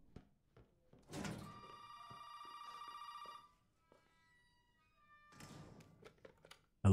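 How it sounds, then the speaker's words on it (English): A telephone rings in the horror video game Resident Evil 7: a tonal electronic ring lasting about two seconds, a pause, then a second ring starting, with soft thuds around it; quiet and alone, no talk. "Phone's ringing."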